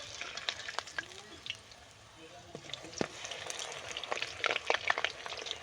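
Potato chips frying in hot oil over a high flame, a quiet crackling sizzle with scattered sharp pops and occasional stirring, somewhat distant and fairly faint.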